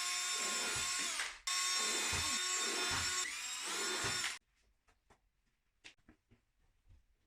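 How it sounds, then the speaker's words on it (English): A circular drill bit run in reverse to cut upholstery foam for a diamond-tufted storage bench, a loud high whine in two long bursts with a brief dip between, then quiet clicks and handling noises. "So what I'm using here is my circular drill bit."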